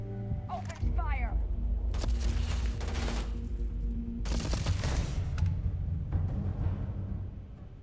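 Video game gunfire: dense bursts of rapid shots and crackling fusillades roll on continuously, loud and close, over a low rumbling bed with brief tonal effects at the start.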